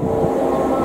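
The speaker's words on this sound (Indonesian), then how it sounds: "Kereta api Malabar yang diberangkatkan dari stasiun Bandung menuju tujuan akhir stasiun Malang" Malabar passenger train running past Cicalengka station on its Bandung to Malang route, a steady close rumble and hiss of rolling wagons with no break.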